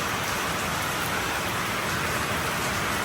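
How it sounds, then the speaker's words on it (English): Steady rain pours down outdoors at a workshop where a Porsche 911T is being restored, a dense, even hiss close by and unchanging throughout, with no voices. "And there's the rain, and my cars are getting soaked."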